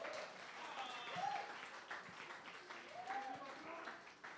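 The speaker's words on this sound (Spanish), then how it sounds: "Un aplauso para el Chaparro" Audience applause for the comedian Chaparro at a comedy roast, a steady wash of clapping from a crowd mixed with scattered voices and cheers, moderately loud throughout.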